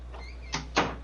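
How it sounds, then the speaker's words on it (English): A room door at home is pulled shut, giving two quick close thumps about a quarter second apart, the second louder, over a constant low electrical hum. "let me close my door before I do my intro"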